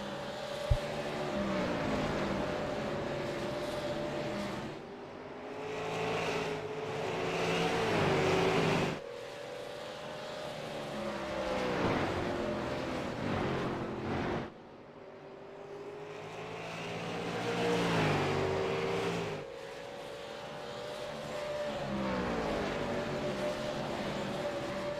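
Race cars lap Indianapolis Raceway Park in a pack, engines rising and falling in long repeated waves as they pass, with loud drawn-out pitch sweeps and brief dips between passes.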